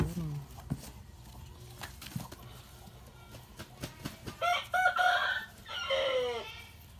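Chickens heard at fairly close range, soft low clucks early on, then a rooster crowing loudly twice near the end, with faint speech and background noise underneath.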